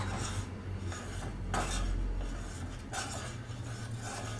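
Spoon stirring milk in a pot while an arrowroot slurry is poured in for shahi tukra, giving a steady soft scraping and swishing with light metal clinks, continuous and close, no voices.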